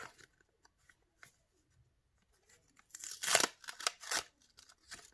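A paper surprise packet is torn and unwrapped close up, with faint rustles at first, then a loud burst of ripping and crinkling paper toward the end.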